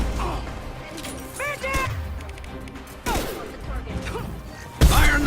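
Gunfire in the sci-fi game Mass Effect 2 cracks in a few loud, sudden shots over a busy combat soundscape, with voices speaking in between.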